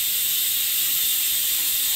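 A steady, loud hiss of steam escaping from a pressure cooker whistle while cooking Indian gooseberries (amla) fills the whole clip, with no voices over it.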